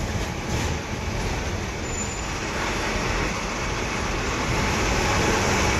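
An MSRTC Tata BS6 Hirkani bus cruises along the Pune–Nagar highway, with a steady, loud broadband rumble of engine and road noise filling the cabin throughout, and no voices.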